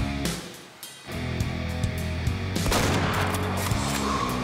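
Sharp rifle report from a Creedmoor hunting rifle in the game Way of the Hunter, a loud crack followed by another burst and a lingering rumbling echo.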